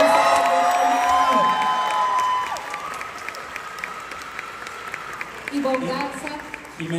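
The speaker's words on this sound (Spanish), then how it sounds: "¡Aplausos!" Theater audience applauding and cheering at a musical performance, a dense wash of clapping with whoops and shouts loudest at first, then settling into steady, slightly softer clapping as voices continue over it.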